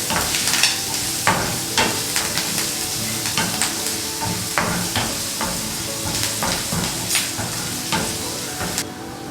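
Ginger and green chili frying for lemon rice, a bright sizzle with frequent quick scrapes and clinks from stirring in a rapid uneven rhythm, close up and loud.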